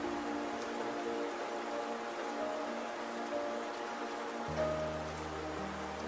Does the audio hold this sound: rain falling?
yes